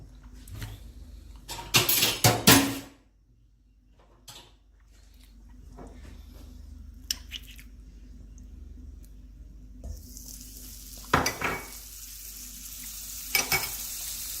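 Butter heats in a pan on the stove, first with a few sharp metallic clinks, then a faint, steady sizzle that thickens toward the end and is broken by occasional soft knocks.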